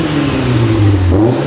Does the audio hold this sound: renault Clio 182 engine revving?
yes